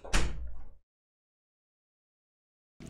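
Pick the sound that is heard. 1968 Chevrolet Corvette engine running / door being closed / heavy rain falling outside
door being closed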